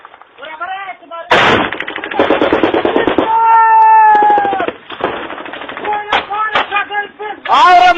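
Kalashnikov rifles and a PK machine gun fire in close, loud, rapid bursts, with sharp cracks and a ringing tonal whine between the volleys.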